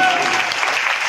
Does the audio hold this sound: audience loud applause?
yes